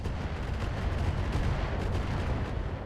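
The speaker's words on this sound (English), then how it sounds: "Stalker is going to close in and drop some missiles on the urban mech." Missiles fired at a mech in the RogueTech mod of BattleTech, a dense, continuous rumble of booming impacts and launches rolling steadily for about three seconds with no pauses.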